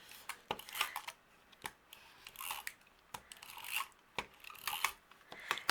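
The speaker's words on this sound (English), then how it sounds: "We're going to flip this over and use our tape runner." A tape runner laying adhesive strips on card paper for a handmade card, giving repeated short, crisp tearing clicks up close, with quiet pauses between strokes and no talking.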